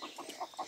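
Chickens cluck in short, repeated bursts at feeding time, with several soft, close calls spread across a brief, fairly quiet moment.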